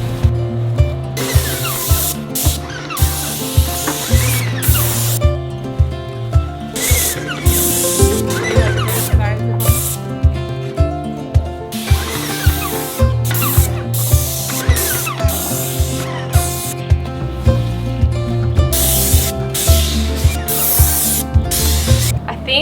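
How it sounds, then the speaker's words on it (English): A paint sprayer applies deck paint to an old wooden playhouse outdoors, a loud, close hiss in repeated bursts with short gaps, each burst starting with a sharp trigger click, and no talk. "I'm gonna actually spray this with my deck color and then I'll kind of work my way out"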